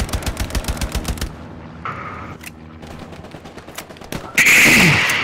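Rapid automatic gunfire in the World War II shooter Hell Let Loose: a loud, steady burst of evenly spaced shots, then scattered distant reports, ending in a sharp, close blast.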